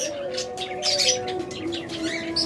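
Pairs of budgerigars chirp and twitter continuously in a busy flock, a steady high chatter of overlapping calls close by with no voices.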